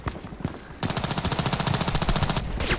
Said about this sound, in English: Shooting from the right.